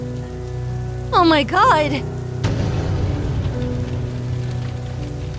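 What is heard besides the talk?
rain falling in Fortnite video game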